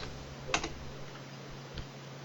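A few sparse keystrokes on a computer keyboard close by while setting up software on Windows, with one sharper click near the start and a fainter one later, over a quiet background hum.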